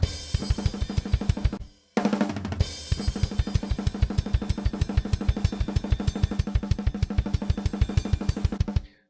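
Tight, punchy 1980s TAMA Rockstar drum kit, original overheads with other drums sample-replaced, playing a fast, steady groove with crisp snare and kick hits, a brief pause and fill near the start, then continuing evenly.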